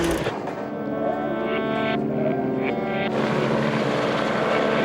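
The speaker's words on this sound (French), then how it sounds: "Après les motos et les autos, les avions maintenant, avec Renault Ekal, le tout nouveau champion" An aerobatic propeller airplane flies over the Gueux motor circuit near Reims, its engine droning loudly and steadily with a shifting pitch as it passes, no voices.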